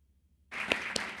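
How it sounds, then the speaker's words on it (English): After a short silence, a burst of audience applause breaks out for panelists at a hurricane season resiliency roundtable, steady and dense with a few sharper claps, in a room setting. "Round of applause"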